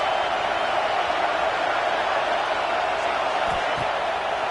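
Stadium crowd noise from a college football video game: a dense, constant roar of many voices, loud and unbroken for the whole stretch.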